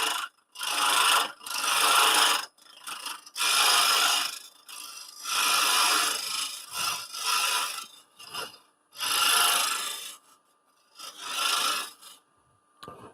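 A woodturning tool cleans up the rim of a face-grain bowl spinning on a lathe, giving repeated raspy scraping bursts of a second or two each with short pauses between, close and fairly loud.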